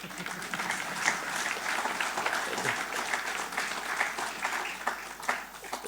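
Sustained applause from a sizable audience at an annual day ceremony, a dense wash of many hands clapping steadily at an even level throughout.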